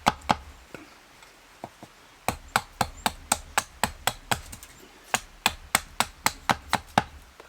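Rapid, steady sharp wooden knocks and chops, some evenly spaced in quick runs, as a wooden hearth board for friction fire-lighting is squared off at a bushcraft camp, close by with no talking.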